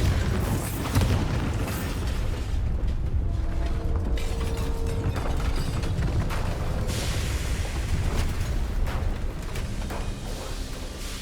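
The Bombarda spell explodes in Hogwarts Legacy with deep booming blasts and rumbling over dense, continuous game combat noise, loud throughout.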